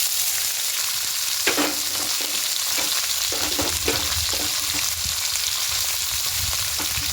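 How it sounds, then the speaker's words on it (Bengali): Salted vegetables, squeezed of their water, frying in a pan for semolina chowmein, with a steady loud sizzle and scattered scraping clatters as they are stirred. "এবার এই সবজিটা এখানে দিয়ে দেব"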